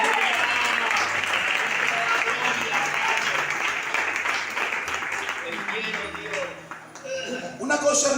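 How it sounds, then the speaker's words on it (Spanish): A church congregation applauds together during a Spanish-language Bible study, dense sustained clapping filling the room at steady loudness, with voices mixed in and a brief dip near the end before it swells again. "Dale un aplauso al Señor,"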